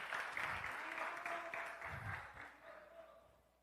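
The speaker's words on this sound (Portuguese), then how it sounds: "Uma salva de palmas para o Mateus aqui." Applause and clapping from a church congregation for a young man named Mateus, a broad wash of many hands that fades toward the end, with faint voices mixed in.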